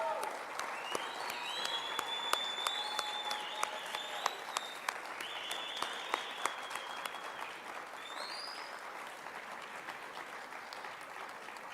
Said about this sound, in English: I would like every one of you to just clap for each and every one.